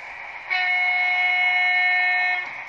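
A Hornby model locomotive horn triggered by a voice command on a digital control system sounds one steady, loud, multi-tone blast, held for about two seconds before it stops.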